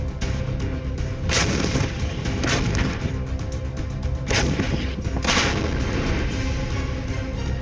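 Repeated heavy booms of howitzer artillery fire roll out over a constant loud rumble, several sharp blasts spaced irregularly across the stretch.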